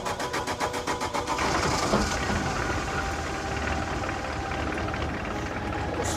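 An Astra car engine cranking after a diesel refill, with a rhythmic starter churn for over a second before it catches into a rough, uneven running rumble that continues steadily.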